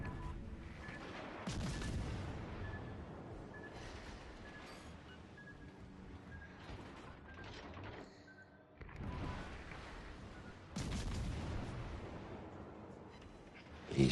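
Naval gunfire in the World of Warships: Legends video game, with heavy broadside booms from a warship including the Cherbourg, two loud roaring salvos separated by a lower continuous rumble of battle, ending with a short sharp hit.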